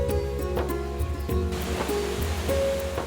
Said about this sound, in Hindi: वो देखो झरना।